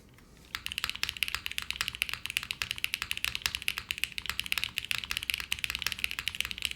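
Fast, steady typing on a Jris 80 tenkeyless mechanical keyboard with anti-shot dampeners fitted, a dense run of crisp close keystrokes that starts after a brief quiet moment and continues throughout, with no talking.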